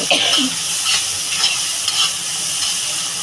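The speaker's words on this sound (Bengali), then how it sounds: "মশলাটা ভালো করে কষানো হবে, যখন তেল ছেড়ে দেবে তখন আমি পরিমাণ মতো ঝোল দিয়ে দেবো।" Turmeric, chilli powder and slit green chilli being fried and stirred in hot oil for a Bengali chela fish curry, with a steady, close, bright sizzle and scraping stir noises throughout, no voices.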